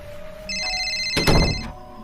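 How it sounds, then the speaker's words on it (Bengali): A telephone rings in a horror cartoon at night, a bright electronic ring that starts about a quarter second in and runs steadily for over a second. A heavy thump lands over it near the end, and no one speaks. "আবার ফোনটা বেজে উঠল।"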